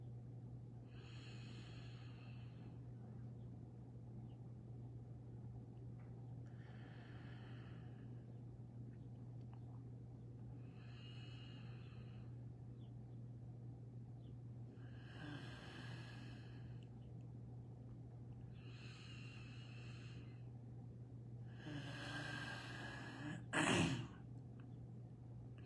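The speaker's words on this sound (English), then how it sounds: "I just want you to do just 4 slow, deep breaths." Slow, deep breathing during a guided therapy exercise, several long drawn breaths spaced a few seconds apart over a steady low hum, ending in a sharper, louder snort-like exhale.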